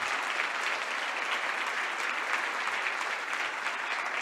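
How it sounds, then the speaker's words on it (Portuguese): Steady, even applause from a church congregation during a sermon, held at a constant level for several seconds and heard from a little distance, with no talking over it. "Pode aplaudir."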